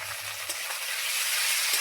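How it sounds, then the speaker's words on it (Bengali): Ground cumin, dried red chilli and onion pastes fry in hot oil in a pan, giving a steady close sizzle broken by a few stirring scrapes. "2 মিনিট মতো মশলা কষিয়ে নিয়েছি"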